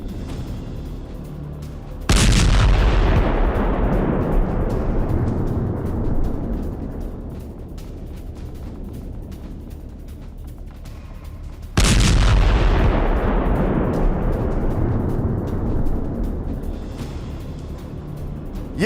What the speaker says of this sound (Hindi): हथियारों के गोदाम में भयंकर धमाका